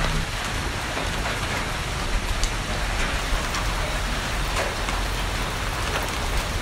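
Steady rain pours outdoors in cold weather during guava picking, a dense, even patter of drops on surfaces with occasional sharper taps close by, continuous and without talk.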